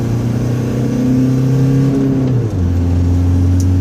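A diesel-swapped Frankendiesel car pulls hard under turbo boost, its loud, close engine drone holding steady, then the pitch drops at a gear change before it keeps building.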